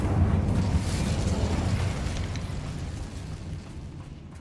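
An Incendio fire spell blasting in the Hogwarts Legacy video game, a loud, dense fiery whoosh that rumbles strongly at first and then slowly fades over a few seconds, with no talking.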